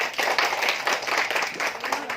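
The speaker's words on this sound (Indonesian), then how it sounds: "Silakan Ishardi, kita beri tepuk tangan yang meriah" Audience in a classroom applauding a presenting group, a dense, steady burst of many hands clapping at moderate volume, short and continuous.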